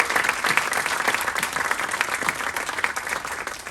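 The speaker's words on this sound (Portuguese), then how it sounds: "Aproveitem o aplauso" A live audience claps at an evening arts gathering where a painter works on stage. The applause is dense and sustained, filling the room throughout.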